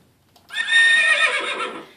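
A horse neighs loudly once after a brief quiet start, a bright whinny lasting over a second and trailing off.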